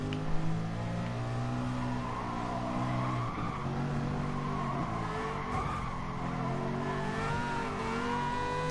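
Race cars in the GT Sport video game roar and rev continuously, engines droning with shifting pitch and occasional tire squeal, loud and steady throughout with no talk.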